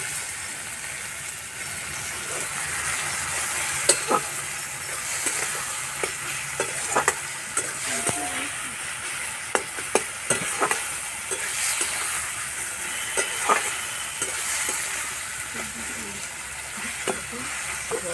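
Morola fish curry sizzles steadily in a pan while a spatula scrapes and taps against the metal in irregular strokes, close and persistent, with occasional faint background noise.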